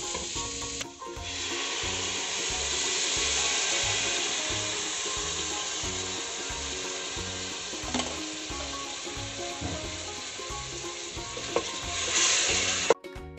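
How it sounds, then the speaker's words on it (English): Vegetable stock pours into pumpkin soup in a pot, a steady close rushing and sizzling wash that runs continuously for several seconds before cutting off with a clink. "I've also prepared a vegetable stock to put into my soup, so I'm going to add that into it now."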